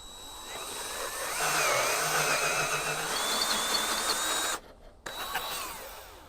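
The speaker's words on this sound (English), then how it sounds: "I'm gonna go in 3 sizes of drill bit to make the hole bigger a little bit at a time" A power drill boring out a hole in a 1976 Chevrolet C20 door hinge area whines steadily at close range for several seconds, its pitch wavering under load, then stops briefly before restarting.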